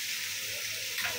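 Steady broadband sizzle of soaked, washed rice frying with homemade spices on medium heat for beef khichuri, close and even, with a slight stir near the end and no talk.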